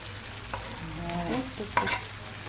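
Shrimp cooking in a pan of peas and coconut milk, a soft steady sizzle with a few stirring scrapes and clinks, close and moderately quiet, no talking.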